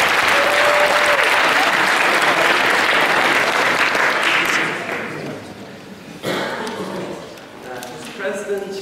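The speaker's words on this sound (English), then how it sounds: "you will surely be met with a round of applause" Sustained, loud applause from an audience in a university debating society chamber, dense clapping filling the room before tapering off, then a speaker begins talking as a few last claps fade.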